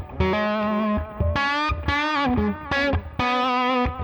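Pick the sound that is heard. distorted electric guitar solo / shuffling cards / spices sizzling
distorted electric guitar solo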